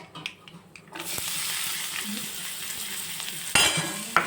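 Onions fry with whole spices in a pan, giving a steady close sizzle that starts after a brief pause, with a few stirring knocks and a louder burst near the end.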